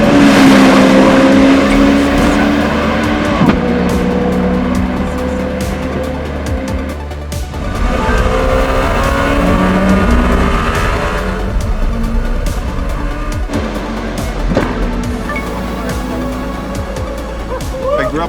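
Czinger 21C race car driving at Laguna Seca, a loud, sustained engine roar with shifting pitch as it accelerates and changes gear, close and continuous throughout.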